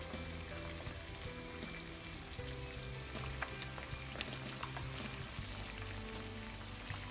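Tofu sizzles and crackles steadily in hot oil in a pan, with dense, continuous frying noise and small pops throughout, no talking.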